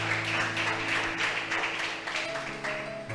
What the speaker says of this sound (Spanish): Vamos a darle un aplauso grande al Señor